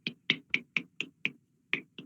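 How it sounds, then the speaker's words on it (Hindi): Welcoming applause at a Hindi poetry gathering comes as sparse, faint, sharp hand claps, about nine crisp evenly spaced strikes with one short gap. "एक बार हम जोरदार तालियों से आपका स्वागत करते हुए"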